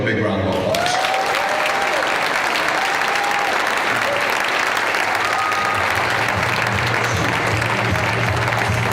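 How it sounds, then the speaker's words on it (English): An audience at a leadership awards ceremony breaks into sustained, dense applause that fills the whole stretch at a steady level, with faint whistles or cheers rising briefly above the clapping. "Ladies and gentlemen, let's give him a big round of applause."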